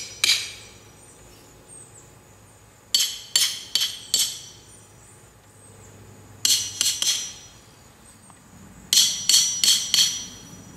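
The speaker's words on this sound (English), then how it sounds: "all you gotta do is just drive it back down in the ground a little." A clay pigeon target holder is hammered into the ground outdoors, heard as three bursts of quick metallic strikes, four or five blows each, separated by quiet pauses.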